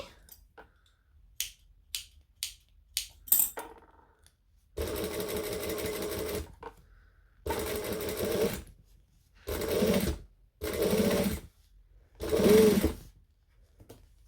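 Sewing machine stitching a handbag at stitch length 4: a few sharp clicks and taps, then several bursts of steady motor whirr separated by short pauses, close and fairly loud.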